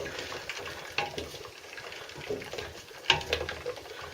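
Purple fabric dye for Shapeways WSF nylon 3D-printed parts simmers in a pot on low heat, giving a faint, steady bubbling hiss with a few soft clicks and small splashes.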